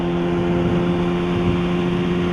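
Kawasaki ZX6R motorcycle fitted with a loud M4 exhaust idles steadily, a constant droning engine tone with no breaks or revs.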